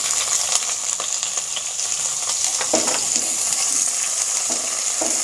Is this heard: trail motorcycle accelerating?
no